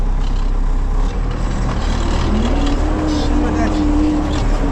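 An MTZ 82.1 tractor pulling a hitch of heavy harrows across a field, its engine a loud, steady drone with a low rumble and a rising whine, while someone talks over it.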